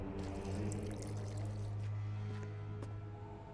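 Water poured into a flask during alchemy in The Witcher 2, a short steady trickling pour over a low background hum, fairly quiet and close, tapering off at the end.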